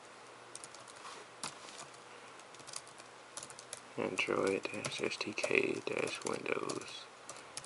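Fingers type on a computer keyboard in bursts of quick clicking keystrokes, light at first and then louder, while someone talks over them.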